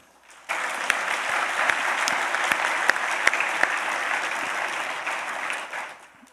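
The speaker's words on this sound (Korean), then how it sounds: "우리 SFC 운동원 분들은 성도님들에게 감사와 존경을 담아 박수 부탁드립니다." A church congregation at a Sunday evening service applauds steadily, the clapping starting abruptly after a short pause, holding at a dense, even level with a few sharper individual claps, then tapering off at the end.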